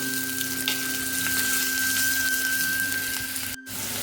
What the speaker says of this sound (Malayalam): ആ ഒരു സവാള ഇതിലോട്ട് ഇട്ട് കൊടുക്കാം ഇതൊന്ന് ജസ്റ്റ് വരട്ടിയെടുക്കാം